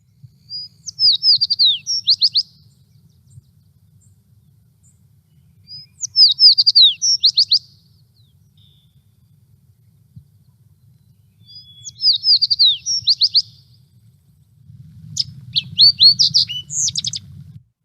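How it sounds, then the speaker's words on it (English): A fox sparrow sings four separate bright, warbling phrases spaced a few seconds apart, clear against a quiet background with faint low rumble. "the fox sparrow sound"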